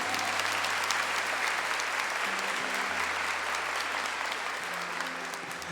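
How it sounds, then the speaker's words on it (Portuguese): Steady applause from a church audience fills the space without letup, with a low sustained musical tone underneath that shifts pitch a few times. "Então vamos aplaudir Jesus"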